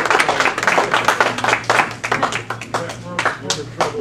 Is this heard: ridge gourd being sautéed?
no